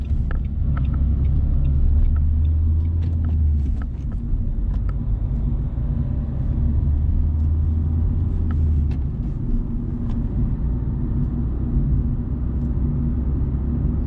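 A learner driver's car pulling away on the road, heard from inside as a steady low engine rumble that holds through the whole stretch, with faint small clicks and knocks on top and no talking.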